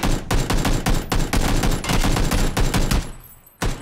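Rapid bursts of gunfire from a shooter video game rattle on loud and dense for about three seconds, stop briefly, then a final shot bursts back in.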